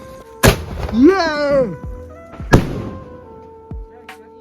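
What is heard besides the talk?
Diwali firecrackers bursting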